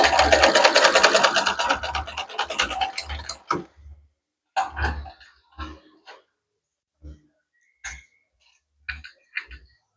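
A sewing machine runs steadily for about three seconds stitching an open seam, then stops, leaving scattered soft clicks and handling sounds.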